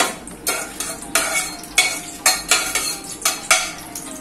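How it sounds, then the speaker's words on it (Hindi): Dry whole spices, cinnamon and black cardamom, are stirred in a pan for mutton paya, a spoon scraping and clinking in a steady rhythm of about two strokes per second over a soft sizzle. "ये दालचीनी, काला इलायची सब इसमें डालते हैं, और थोड़ा फ्राई करते हैं"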